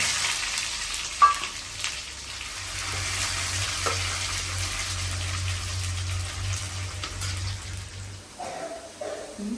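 Mustard seeds and shallots fry in hot oil with a steady crackling sizzle, a sharp pop early on and a few stirring scrapes near the end.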